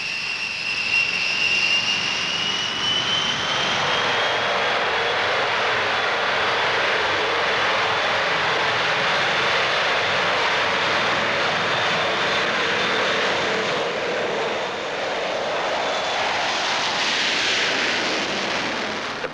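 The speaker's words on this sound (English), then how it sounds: "in this instance, contributes 4 Vulcan bombers" Avro Vulcan bombers, the RAF's frontline strike aircraft, pass overhead as part of a mock enemy force in an air exercise, their loud, steady jet roar swelling and holding for the whole stretch with no voices.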